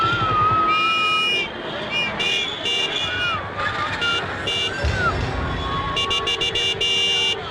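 Several car horns toot and honk in bursts over a busy traffic jam with idling engines, with people talking loudly over the din.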